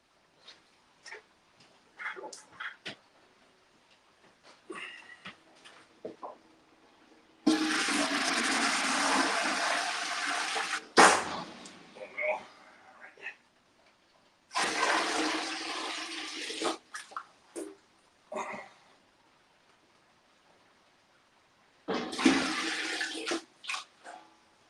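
Water gushes into a homebrewing kettle in three long, loud splashing bursts, with quiet handling noises and pauses between the pours.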